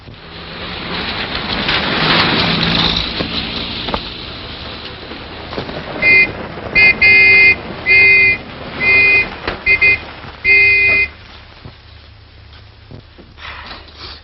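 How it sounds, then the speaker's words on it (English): A car engine swells closer over the first few seconds, then its horn sounds in about six short, evenly spaced loud blasts before the noise settles into a low idle rumble. "Hey, sounds like another car."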